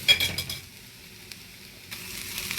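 Ingredients for a shrimp gravy sauté in a pan, producing a faint, low sizzle with a few brief clinks of stirring at the start and a slight swell near the end.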